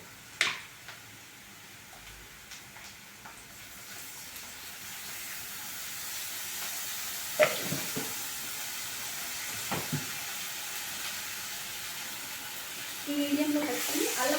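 Ginger garlic paste frying over medium heat with turmeric in a pan, village-style home cooking: a steady, faint sizzling hiss runs throughout, broken by a few sharp clinks and scrapes of a utensil.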